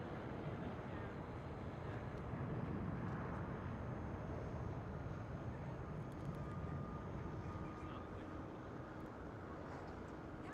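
An airliner departs Schiphol airport toward Zagreb, its jet engines a steady, distant broadband roar that holds evenly throughout.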